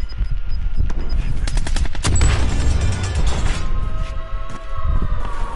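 Dense gunfire in a Warzone firefight, with rapid bursts and sharp cracks piling up loud and close over a continuous battle din, a siren-like tone sliding underneath near the end.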